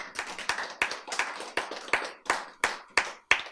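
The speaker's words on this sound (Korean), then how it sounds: "박수." A lecture audience claps together in a steady rhythmic beat, roughly three claps per second, loud and close, with no talking over it.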